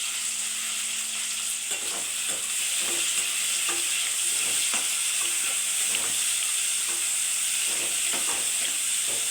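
Chopped tomatoes with salt fry in a hot pan, a constant close sizzle broken by repeated scraping and clinking strokes of a spoon stirring, with no voices.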